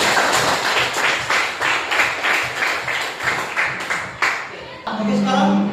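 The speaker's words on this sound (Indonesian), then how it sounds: "Tepuk tangan dulu." A classroom of students claps their hands together in a quick, rhythmic burst of applause, with voices mixed in, ending as a teacher starts speaking.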